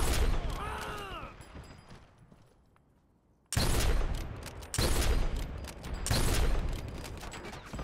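Gunfire in the video game Dirty Bomb comes as loud, dense bursts of rapid shots in close combat, several heavy volleys after a brief quiet stretch, with game sound effects at the start.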